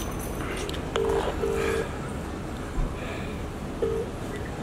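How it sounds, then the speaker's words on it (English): A few telephone keypad tones beep over a steady outdoor background with wind noise, close and clear, as a short pair of dial beeps followed by a single beep a few seconds later. "Let's phone him now."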